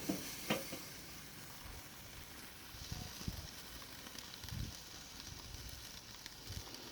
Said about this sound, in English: let's give this tri-tip a sear